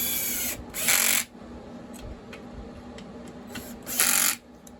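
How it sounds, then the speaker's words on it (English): A cordless screw gun drives screws into a STIHL MS362 chainsaw during handle and anti-vibration mount work, with two loud whirring bursts of a few seconds each over a low steady background hum and small clicks. "I was thinking I could just grab this right here and use my screw gun, which would be quicker."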